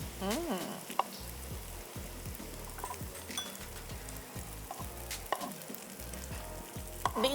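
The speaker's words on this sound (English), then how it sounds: "We're going to add our shrimp." Shrimp fry in a pan on a TV cooking segment, a faint sizzle beneath occasional utensil clicks, while music with a steady beat plays prominently over it.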